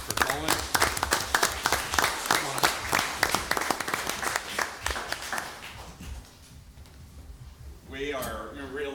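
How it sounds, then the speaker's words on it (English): A town board meeting audience applauds for Colin, a burst of many hands clapping that fills the room for several seconds, thins out toward the end, and gives way to a voice speaking. "So, a round of applause for Colin."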